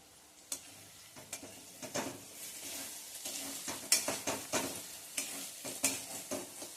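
Onion and chili thecha with turmeric sautéed in a pan, quiet sizzling under a series of soft spoon scrapes and taps that grow livelier toward the end, close but faint.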